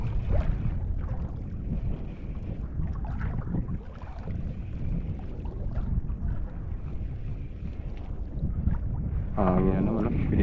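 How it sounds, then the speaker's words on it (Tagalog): Wind buffeting a small fishing boat on open water under the northeast monsoon: steady, low rumbling gusts against the microphone, with faint voices mixed in and a brief higher sound near the end. "Hangin na naman."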